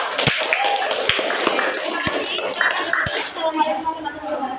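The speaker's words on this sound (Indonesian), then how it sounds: "tepuk tangan buat kelompok 2" A classroom group applauds a presenting student group, scattered hand claps with sharp individual slaps standing out, fairly close and uneven, alongside some clinking and murmured talk.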